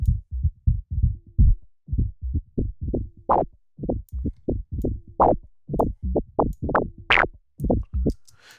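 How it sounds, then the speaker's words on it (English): A punchy, distorted bass loop with gritty overtones from sine wave folding, repeating in a steady rhythmic pattern of short hits, loud and close with no voices. "change the algorithm to sinoid fold, which is doing a bit of wave folding"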